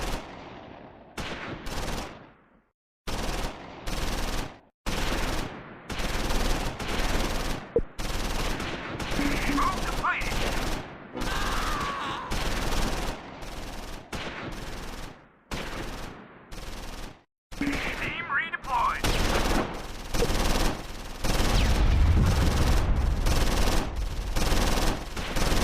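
Gunfire in a World War II firefight near Monschau during the Battle of the Bulge in the Close Combat 4 game: repeated bursts of rifle and machine gun shots with sharp attacks and short silent gaps, moderately loud, with no talking.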